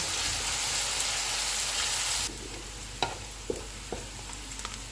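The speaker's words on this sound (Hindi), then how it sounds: "ऑयल गर्म हो गया, इसमें प्याज डालेंगे। इनको गोल्डन फ्राई करेंगे।" Onions frying in hot oil give a steady, loud sizzle that suddenly drops to a quieter hiss partway through, followed by a few sharp clinks of stirring.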